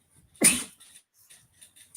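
A single sharp, explosive sneeze bursts out near the start, followed by faint rustling and quiet background noises.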